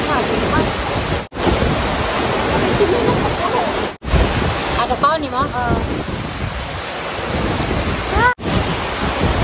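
Loud, continuous sea surf and wind roar by the shore, with a few voices talking briefly over it and short cuts in the sound.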